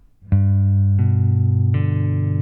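Three plucked guitar notes rung out one after another, each new string struck about every three-quarters of a second and left to sustain.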